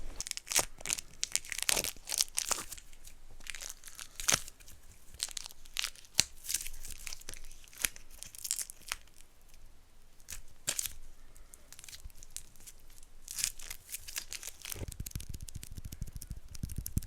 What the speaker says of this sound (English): let us unwrap the cucumber and prepare it for the sandwich